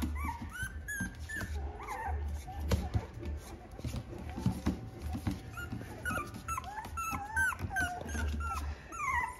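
Puppies yip, whimper and growl close by in a busy, overlapping stream of small barks and squeals, with a voice speaking softly among them.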